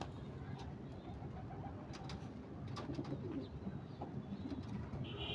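Soft, low cooing of domestic pigeons on a rooftop repeats outdoors over a muffled ambient background, with a few faint chirps and distant noises.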